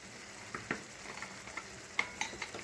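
Gongura meal maker curry with extra paste being stirred in a pan, a faint background sizzle broken by a few soft scraping clinks of the spoon against the pan, alone with no talk.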